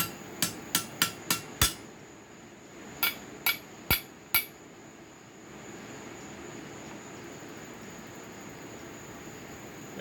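Hammering a rivet cold into a pair of slot jaw tong blanks: two sets of sharp, ringing metallic blows, five strikes then four, close and loud, followed by quiet.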